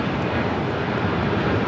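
A Boeing 767 operated by ABX arrives on runway 25 left at Los Angeles International Airport, a steady, continuous jet engine roar with broadband rumble that holds level throughout the short stretch, with no voices.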